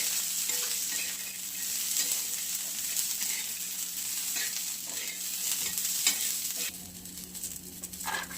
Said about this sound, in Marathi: शेंगदाणे पण भाजून घेऊयात मिरची बरोबर